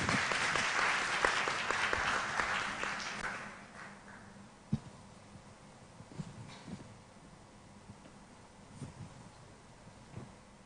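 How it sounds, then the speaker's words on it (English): Audience applause welcomes a speaker at an international conference on teacher and education personnel administration, loud sustained clapping for about four seconds that then thins to scattered claps and room noise. "please give a big round of applause to welcome Miss Usani"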